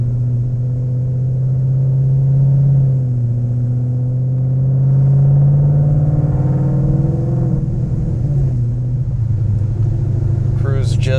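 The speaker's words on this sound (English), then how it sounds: "Warning you guys, this car is very loud." Loud, deep engine rumble from a Whipple-supercharged 2018 Mustang GT with Lethal Performance axle-back exhaust, Cook's headers and no catalytic converters, cruising on local roads with a steady drone that swells and eases, and a voice talks over it throughout.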